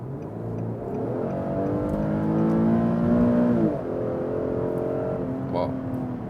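Infiniti QX70 with a 3.7-litre naturally aspirated V6 accelerating hard in sport mode, engine note climbing steadily under load from inside the cabin, then a gear change, and the revs building again.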